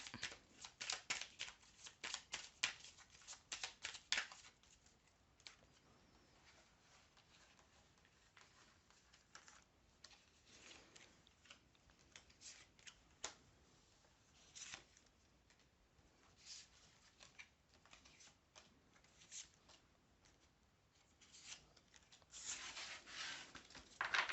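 Oracle cards being shuffled by hand, a soft papery riffling that comes in repeated bursts with quieter rustling between, close and faint, with no talk.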